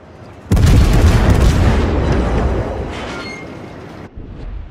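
Goliath torpedoes strike a tier 10 battleship's torpedo protection in World of Warships: a sudden loud booming blast hits, then a heavy rumbling roar that slowly fades. A smaller thump comes near the end.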